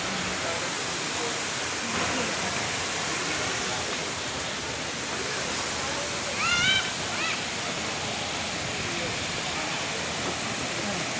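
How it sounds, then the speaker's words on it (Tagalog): A steady, broad rush of falling water fills the whole stretch, loud and unchanging, with a brief bird chirp partway through. "Ang ganda ng falls"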